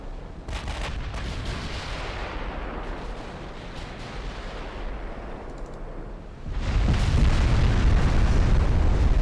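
Heavy battleship shell impacts and booming salvos in a naval warfare game, a rumbling barrage that swells sharply louder partway through as a series of massive hits lands.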